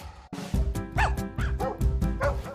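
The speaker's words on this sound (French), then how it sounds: "je suis maître chien à la GRC et voici ma partenaire Dana." An RCMP police dog barking close by in a quick series of sharp, excited barks and high yips, with a brief whine among them.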